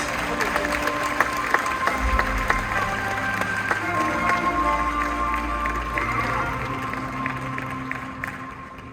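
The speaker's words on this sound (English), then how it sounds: "A big round of applause, ladies and gentlemen." An audience at a Saudi Vision forum session at Expo 2025 Osaka applauds the panelists, sustained clapping from a crowd with tonal background music running beneath it throughout.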